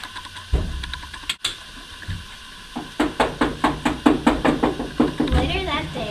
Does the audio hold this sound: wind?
no